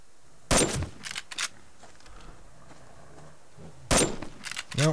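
Shotgun blasts aimed at a bear in the survival game Subsistence: two loud, sharp reports about three seconds apart, each followed by a shorter crack or echo, with quiet ambient sound in between.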